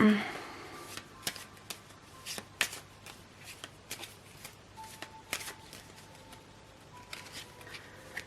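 Oracle cards shuffled and handled close up, with repeated crisp flicks and slides in irregular bursts, while a faint hum sits underneath.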